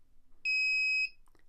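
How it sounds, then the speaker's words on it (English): A piezo buzzer on Arduino-built sonar goggles sounds a single loud, steady high-pitched beep lasting about half a second, clean and close up in an otherwise quiet room. "And we can hear the beeping becomes more rapid."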